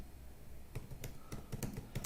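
Java code typed on a computer keyboard, a quiet, irregular patter of individual key taps in quick clusters against a faint room hiss.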